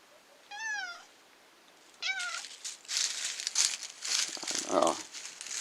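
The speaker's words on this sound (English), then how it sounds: "now there's the cat." A cat meows twice, close and clear, with rising-falling tones, followed by crinkling and rustling of paper or plastic and a third short meow near the end.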